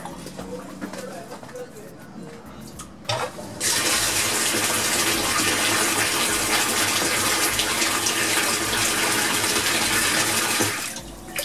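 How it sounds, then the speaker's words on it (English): A quiet hum with faint chirps, then a water pump starts and a loud, steady rush of gushing water begins abruptly, running for several seconds before tapering. "let me turn the pump on"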